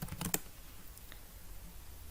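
Typing code on a computer keyboard: a quick cluster of several clicking keystrokes near the start, then a few faint taps over quiet room noise, close and fairly soft.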